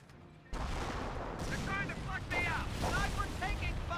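Half-track barrage in Company of Heroes, a World War II strategy video game: a sudden onset of continuous rumbling explosions and rocket bursts that keeps going, with battlefield chatter and a commentator's voice over it.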